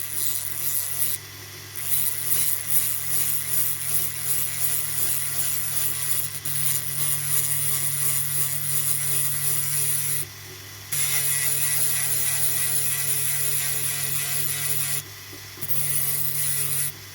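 A 1957 Corgi Standard Vanguard diecast toy car with a friction motor being ground open, a steady close abrasive rasping that continues for long stretches with a few short pauses.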